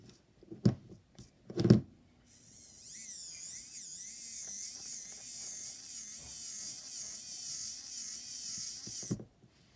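Modified servo motor running, a few mechanical clicks, then a continuous buzzing gear whine with wavering pitch for several seconds before stopping with a final click, close and alone.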